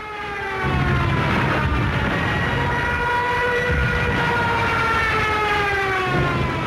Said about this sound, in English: The German Junkers 87 dive bomber, nicknamed the Stuka, and fitted with a screaming siren.